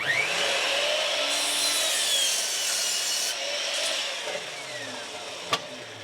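A mitre saw set to a 30 degree bevel cuts through a piece of wood in one continuous, loud, high-pitched whine that runs about five seconds, with a sharp knock near the end.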